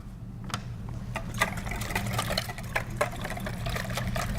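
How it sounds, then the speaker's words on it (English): Garlic and chipotle chilies in sauce being whisked in a bowl, with steady wet stirring and scattered light clinks of the whisk against the sides over a low background hum. "Garlic. Garlic. And chipotle chilies with sauce. Perfect. Whisk. Whisk."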